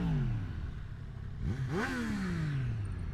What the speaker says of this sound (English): That's a great sounding stock exhaust system.